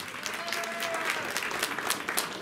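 Audience applause for a contest winner at a film fan event, dense steady clapping from a crowd in a hall, lasting throughout at an even level.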